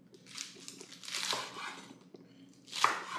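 Knife chopping lettuce finely on a board in a home kitchen while making a Big Mac wrap: soft, crunchy chops in short irregular bursts, fairly faint and close.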